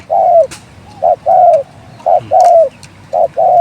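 A bird repeats a short, cooing call in a steady pattern, loud and close, with faint chirps and outdoor noise between the calls.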